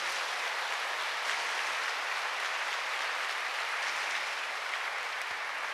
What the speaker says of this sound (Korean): 우리 하나님께 영광의 박수 한번 올려드릴까요?